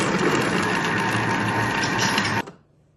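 A food processor motor whirs loudly and steadily at speed 5 for about 15 seconds, then stops abruptly, leaving near silence.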